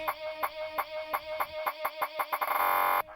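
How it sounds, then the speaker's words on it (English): A repeating clucking, bird-like sample chopped into rhythmic bursts by a gate effect in the Koala FX app, speeding into a rapid stutter before cutting off abruptly. "Right, got a little gate."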